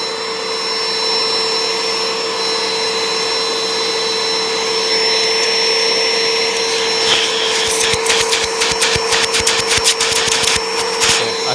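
A Bissell ProHeat Essential carpet cleaner runs with suction, a steady whining motor drone with a high tone, joined in the second half by rapid clattering, gurgling bursts as it pulls water.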